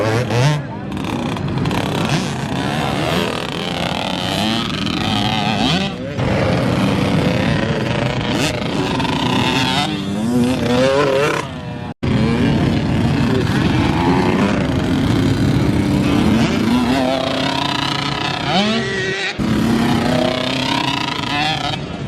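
Small 65cc motocross bikes ride around a dirt track, engines whining and revving up and down at varying distances, while someone talks over them throughout.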